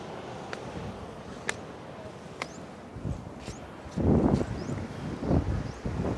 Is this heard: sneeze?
no